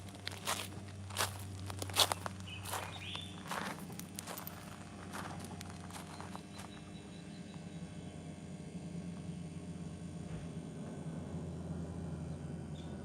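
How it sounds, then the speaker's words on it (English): Footsteps crunch over rock and gravel ground on an early morning walk in Ghana. The steps are close and uneven, clearest in the first few seconds, over a steady low background hum. "This is a rock and gravel ground. That's the noise you hear."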